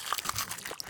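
Crunchy zombie sound effect built for a horror sound library, a dense run of crisp crunching and biting textures packed into under a second, close and fairly loud with no talk.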